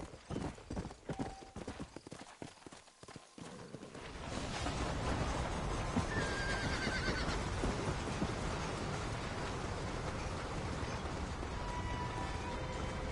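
Horse hooves clip-clop steadily as a rider or wagon sets off out of a frontier town, with a scattered rhythm at first that settles into a loud, continuous trot.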